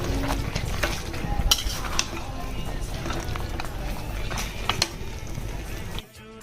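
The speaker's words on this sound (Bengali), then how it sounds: "ফ্রাই করা চিকেন লেগ পিস দিয়ে এবার ভালো করে কষাবো, ঢেকে ঢেকে কষিয়ে নেব।" Fried chicken leg pieces stirred and cooked down in a pan for restaurant-style chicken chaanp, with a steady close sizzle, scraping stirs and utensil knocks against the pan, cutting off abruptly near the end.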